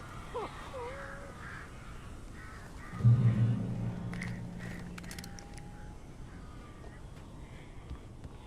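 Birds caw in the video game Alan Wake, a few harsh croaking calls scattered over a dense ambient game soundscape, with a low rumbling thud partway through and no talk.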